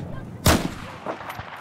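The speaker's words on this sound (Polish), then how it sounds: "Skąd padły te strzały?" Gunfire in the video game Battlefield 4: a single loud, sharp shot with a rumbling tail, followed by a few fainter, more distant pops.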